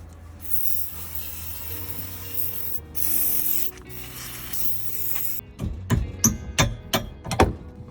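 CRC lubricant sprayed onto a worn 1 7/8-inch trailer tow ball: a few short, close hissing spray bursts, followed by a string of sharp metallic clicks and knocks from the hitch hardware.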